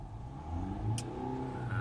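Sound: car engine revving

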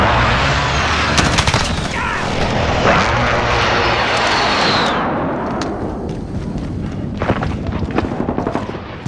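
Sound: precision airstrike arriving in Call of Duty: Modern Warfare video game

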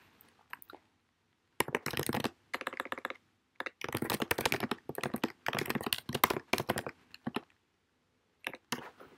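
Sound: typing instructions on a computer keyboard

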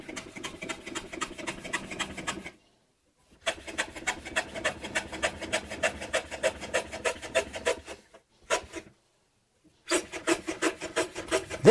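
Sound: hand plane trimming a wooden block on a shooting board

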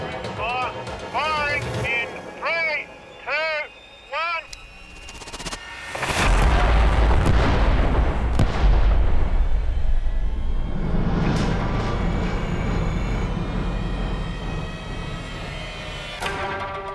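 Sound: explosion blast with shockwave echoing off mountains

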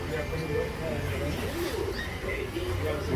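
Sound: pigeons cooing at a market

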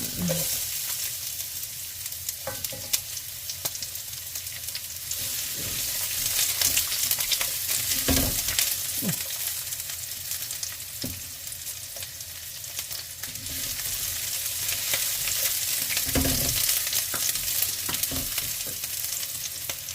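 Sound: garlic and onion frying in olive oil

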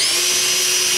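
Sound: power drill pre-drilling holes in roof rack light mounts

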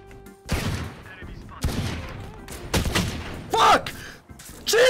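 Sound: gunfire from a video game

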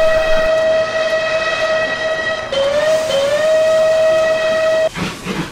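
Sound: steam locomotive whistle

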